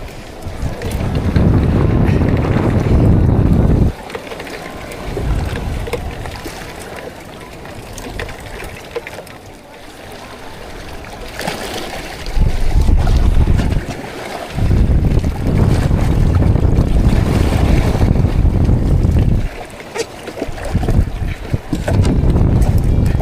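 A small fishing boat rides a rough, wavy sea during handline fishing, with wind roaring across the microphone and surges of water and hull noise rising and falling in loud rumbling bursts.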